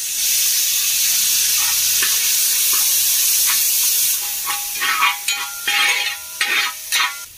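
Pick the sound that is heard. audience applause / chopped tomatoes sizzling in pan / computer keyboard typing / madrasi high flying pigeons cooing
chopped tomatoes sizzling in pan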